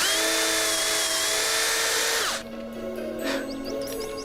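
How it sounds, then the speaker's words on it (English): A power drill whines at high speed while boring into a tree, loud and steady, then the pitch drops as it winds down and stops, leaving faint rattling clicks. "Please, just pass me the drill."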